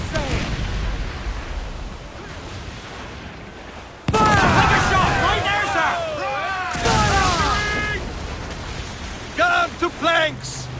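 Ship cannons fire in a naval battle in the video game Assassin's Creed 4: Black Flag, with two heavy booming volleys a few seconds apart, loud and close, amid shouting crew voices and sharper bursts near the end.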